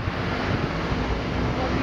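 A breeze outdoors in Milan buffets the microphone as a steady, close rushing wind noise throughout the short moment.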